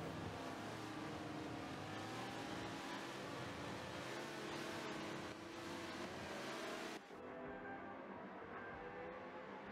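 Several race cars in a sprint race at the Maple Tree GP accelerate from a green-flag start, a loud continuous engine roar that dips abruptly near the end.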